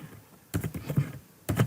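Keys clatter on a computer keyboard as a Django command is typed, in two short, close bursts of quick keystrokes separated by a brief pause.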